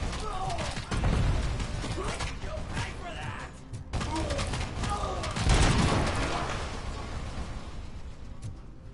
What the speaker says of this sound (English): the turrets are fighting them